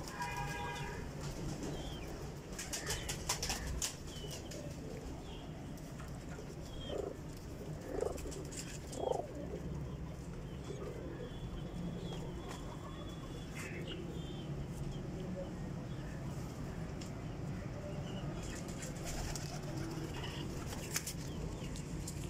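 Breeder pigeons coo softly now and then in a loft, the calls faint and broken up, while someone talks over them for much of the time.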